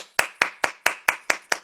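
A single person claps seven times at a steady, even pace for a retired judge during a live online broadcast, each clap sharp, close and evenly spaced with no other sound between them.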